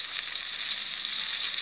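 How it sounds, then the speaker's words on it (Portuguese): Fish fries steadily in a pan at home, a close, loud, continuous sizzle with no voices. "Tá fritando."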